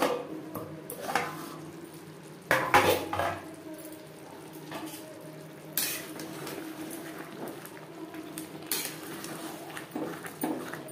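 Metal lid set down on a pot of chicken bhuna cooking on a low-to-medium gas flame, a few sharp clanks and scrapes of cookware spread over several seconds amid soft kitchen clatter, no talking.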